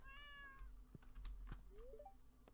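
A cat in the farming video game Stardew Valley gives a single short meow at the start, followed by soft clicks and game sound effects.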